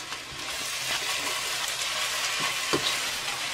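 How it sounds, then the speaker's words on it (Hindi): Green chillies frying with onions in a pan for chicken biryani, a steady broadband sizzle running throughout with a few soft stirring knocks, close and fairly loud, no voices. "तो हम इस प्याज में डालेंगे मिर्चा।"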